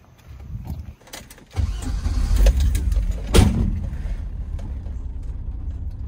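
A BMW E30 325 six-cylinder engine cranks briefly, catches and settles into a smooth, steady idle, heard close up from inside the car with a sharp revving blip partway through.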